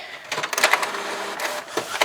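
An office printer pulling in a fresh sheet of paper and printing, heard up close as a run of short mechanical whirs and clicks with busy rhythmic bursts and a final clatter, with no voices.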